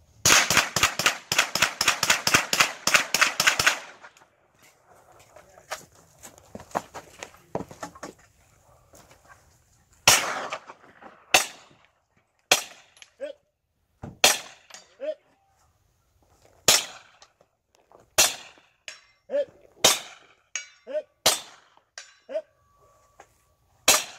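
Gunfire at a multigun shooting competition: a fast rapid string of loud shots opens, then after a pause a series of separate sharp shots rings out at uneven intervals, close and echoing.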